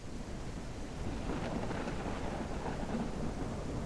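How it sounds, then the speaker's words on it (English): A thunderstorm at night in a weather simulation: steady rain roars with a low rumble of thunder underneath, a dense continuous wash of storm noise without pauses. "Thunderstorm."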